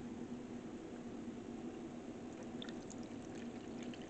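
A thin stream of filtered water pours steadily and quietly into a half-cup measure, a soft continuous trickle with faint splashes near the end.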